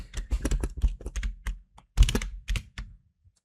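Rapid, irregular clatter of keys on a computer keyboard as a CV is typed up, close and crisp with short pauses between bursts and a heavier thunk now and then, no voices.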